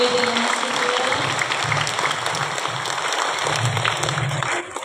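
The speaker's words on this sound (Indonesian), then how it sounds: "Tepuk tangan sekali lagi untuk Bante Dhamma Subur." Crowd applause at a Buddhist Vesak celebration held at an outdoor venue, loud sustained clapping from many hands with faint voices underneath, tapering off at the very end.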